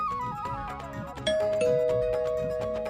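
A doorbell chimes once indoors, a bright ding-dong ringing out and holding over a background of dramatic music and murmured sound.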